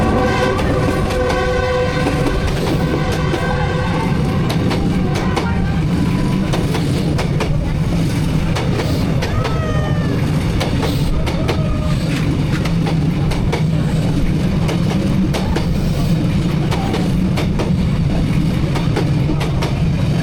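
A train rolls through a narrow Hanoi street lined with buildings in a steady, loud, close rumble with rhythmic clickety-clack over the rails. Several horn blasts sound early, and faint voices are heard in between.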